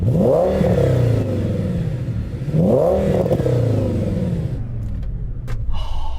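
An Audi RS engine fitted with a Milltek catback exhaust revs loudly and close, with two rising, swelling pulls that settle into a steady rumbling idle before a short clatter at the end.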